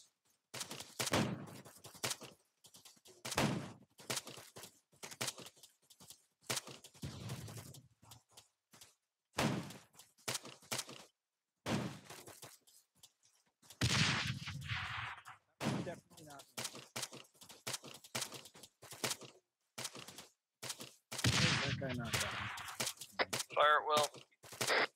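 Gunfire in the military shooter Arma 3: repeated sharp rifle shots and short bursts crack out at irregular intervals, some near and loud, others more distant, with brief quiet gaps and voices talking between them.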